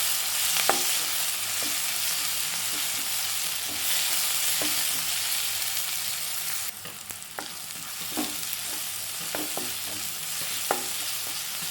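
Onion and tomato fry in a pan for upma, a steady broadband sizzle running throughout with periodic soft scrapes and taps of a stirring spoon; close and continuous, no voices.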